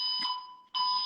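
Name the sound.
false fire alarm going off in an apartment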